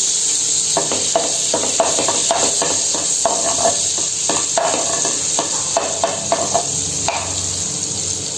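Butter melting in a pan on a low gas flame, a close steady sizzle and hiss broken by repeated scraping strokes of a spoon.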